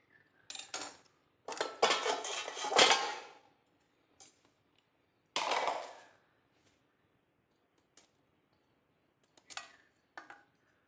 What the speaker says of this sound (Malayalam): അപ്പോൾ ഇതൊന്ന് വട്ടത്തിൽ നമുക്ക് മുറിച്ചെടുക്കാം.